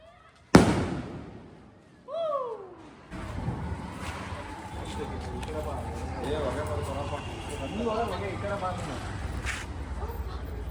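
A sharp crack opens, followed by rising whistles and then a long, steady crackling hiss of a Niagara fountain firework showering sparks at Diwali, with voices faintly underneath.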